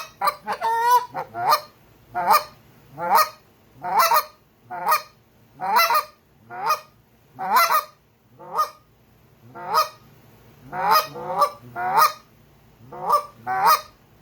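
A Big Kahuna goose call from the Next Level series is blown in a steady rhythm, giving about a dozen low, raspy honks, loud and close, with no voices.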